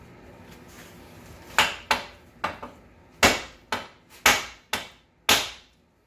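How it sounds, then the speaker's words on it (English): Several sharp metallic hammer strikes on a Subaru outer tie rod, irregularly spaced, loud and close, with a short ringing decay after each blow. "sometimes I kind of hit it right here with the hammer"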